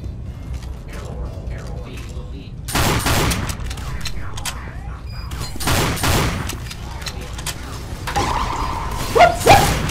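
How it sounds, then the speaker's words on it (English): Gunfire in the video game Team Fortress 2, several loud bursts of shots with mechanical clatter scattered across the span, with game sounds in between. "Who's shooting me?"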